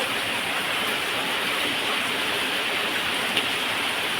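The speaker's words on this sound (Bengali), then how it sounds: "দেখুন বৃষ্টি থামছেই না, এত জোরে বৃষ্টি হচ্ছে" Heavy rain pours down outdoors as a dense, constant hiss with no pauses, loud and even throughout, with no voices.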